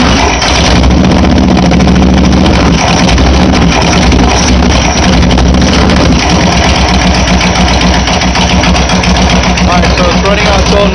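2004 Honda VTX 1300 motorcycle engine running after a carburetor cleaning, a loud continuous close rumble at idle with steady throb.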